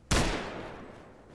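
A single loud gunshot cracks out from an AI squad firing in the Arma Antistasi game (RHS mod), its sharp report decaying over about a second with no talk.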